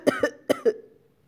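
Four quick coughs in two pairs, close and fairly loud, then silence.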